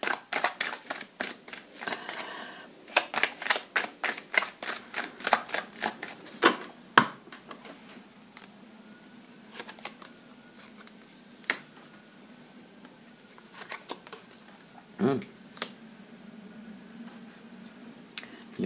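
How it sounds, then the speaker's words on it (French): A deck of tarot cards is shuffled again and again, giving clusters of soft riffling clicks and taps close by, with pauses between bursts and no talking. "vous allez me regarder brasser les cartes longtemps"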